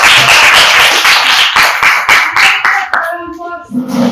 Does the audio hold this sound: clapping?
yes